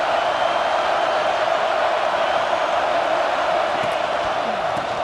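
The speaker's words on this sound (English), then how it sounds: "the crowd coming to life here, trying to help this defense down in the red zone" A football stadium crowd cheers and roars for the defense in the red zone during a game, a continuous loud wash of noise with no clear breaks.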